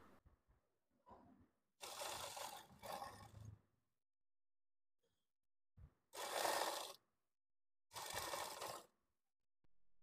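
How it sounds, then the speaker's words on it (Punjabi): A sewing machine stitching lining onto a suit whirs in four separate bursts of roughly a second each, close and clear, with quiet pauses and faint handling clicks between runs. "ਹੁਣ ਆਪਾਂ ਸਿਲਾਈ ਲਗਾਉਣੀ ਸ਼ੁਰੂ ਕਰਨੀ ਹੈ।"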